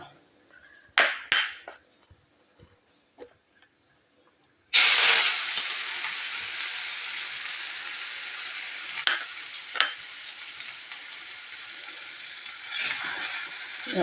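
Ginger, garlic, chillies and crushed neem leaves hit hot oil in a pan with a sudden loud sizzle that keeps frying steadily, after a few quiet clicks and scrapes, with occasional stirring scrapes on top.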